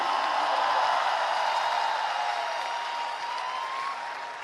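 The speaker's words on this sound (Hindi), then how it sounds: "मैं चाहूंगी आपकी तालियों के पुष्प भी इससे जुड़ें।" A large crowd applauds at a mass public gathering with Sri Sri Ravi Shankar in Kota, a dense, steady wash of clapping that stays loud throughout and eases slightly toward the end, with a faint sustained tone running beneath it.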